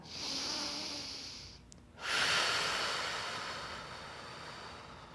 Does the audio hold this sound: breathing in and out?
yes